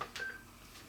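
Telephone keypad dialing tones sound as a call is placed to a phone through a home-built dial-up ISP server on an Ethernet LAN: brief clear beeps over a steady hiss, loud and close, with no voices.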